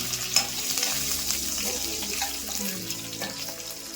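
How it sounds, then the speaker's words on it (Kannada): Mustard seeds, cumin and dried and green chillies frying in hot oil for a tempering, a steady close sizzle with scattered pops and crackles running throughout, with no voices. "ಸಾಸಿವೆ ಜೀರಿಗೆ ಸಿಡಿಬೇಕು. ಒಂದು 2 ಮೆಣಸಿನ್ಕಾಯಿ ಹಾಕ್ಕೊಳ್ತಾ ಇದ್ದೀನಿ."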